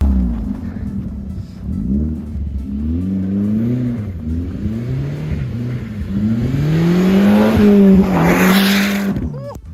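A SEAT Leon 1.8T 4x4 engine revs hard with rising and falling pitch while drifting on winter roads, tires squealing near the end, with some talk underneath.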